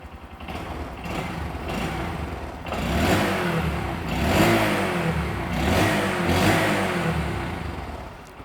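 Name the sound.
Honda Grom motorcycle idling with Yoshimura-style exhaust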